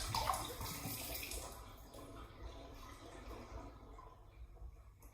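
Water is emptied out of a Pinter brewing dock, a quiet close splash and trickle that swells briefly at the start and then fades into a soft, dwindling drain.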